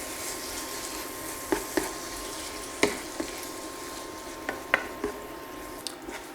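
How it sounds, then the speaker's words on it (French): A ketchup mixture is stirred in a frying pan over a constant soft sizzle, with a few sharp utensil taps against the pan, close by. "on mélange comme il faut"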